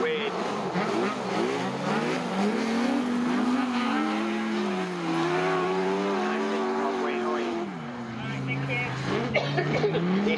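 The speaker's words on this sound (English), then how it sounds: "These cars getting a little bit stretched out as they come round here, but Matt Bramrock sliding this round" Autograss race cars slide around a dirt oval, engines revving and droning as they rise and fall through the corners, heard under continuous race commentary.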